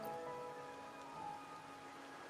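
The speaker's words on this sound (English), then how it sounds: "why is he out in the rain?" Rain in the video game Wuthering Waves, a steady soft hiss of falling rain running through the whole clip beneath sustained musical tones from the game.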